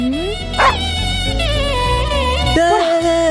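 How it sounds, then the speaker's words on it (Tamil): Several dogs bark and yip close by in a neighbourhood, with high-pitched, drawn-out whining cries in between and a sharp burst near the end. "இன்னும் ஏரியா ஃபுல்லாக நாய் சுற்றி தான் இருக்குன்னு நினைக்கிறேன்"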